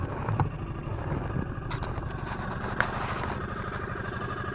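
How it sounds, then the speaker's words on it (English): A Yamaha 6hp outboard engine idles with a steady low pulsing putter, close and fairly loud, on a fjord with no voices. "Right, well, that's the engine started, as you'll be able to hear."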